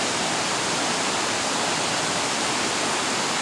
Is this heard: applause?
no